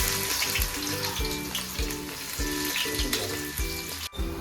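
Onions frying in a pan while cooking a crab dish give a steady broadband sizzle throughout, partly masked by a rhythmic, music-like low pulsing pattern and a sharp knock near the end.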